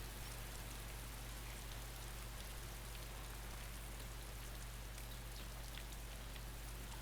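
Rain falls steadily in the survival game DayZ, a dense, even hiss of drops on surfaces with a low rumble underneath, constant and unbroken throughout with no voices.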